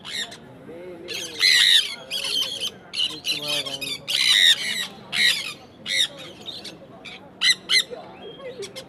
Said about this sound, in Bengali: এর ডাকগুলো শুনে বুঝতেই পারছেন এরা সম্পূর্ণভাবে অ্যাডাল্ট আছে